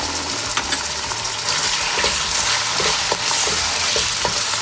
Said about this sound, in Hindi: बस इस टाइम पर मैं ये चिकन ऐड कर दूँगी इसमें, जो 500 ग्राम मेरे पास चिकन था